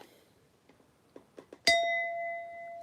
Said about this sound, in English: Strike the bell for someone who joins.